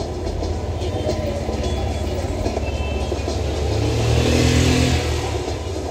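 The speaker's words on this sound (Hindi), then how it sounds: "ये देखो ट्रेन" Train in a video game played on a Jio set top box, a steady rumbling of rolling wheels and engine that swells louder as it starts moving, heard alone without talk.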